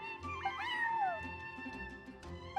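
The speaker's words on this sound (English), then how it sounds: "that's my neighbor's cat" A cat in Genshin Impact gives one clear, close meow with a rising then falling pitch, followed by quiet background tones.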